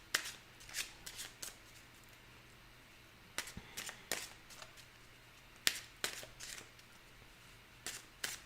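Tarot cards being shuffled in short riffling bursts, repeating every second or so with quiet pauses between, close and fairly soft.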